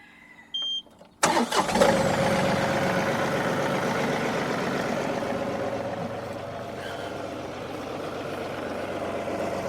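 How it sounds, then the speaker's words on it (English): A tractor engine cranks briefly after a click, catches with a sharp burst, then settles into a steady, fairly loud idle that runs on without break. "we're going to go ahead and start the tractor up"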